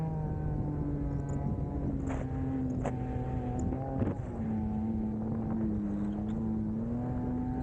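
A Yamaha snowmobile climbs a snowy Alaskan mountain, its engine droning steadily and loudly throughout with pitch rising and shifting, mixed with wind buffeting the microphone and no talk.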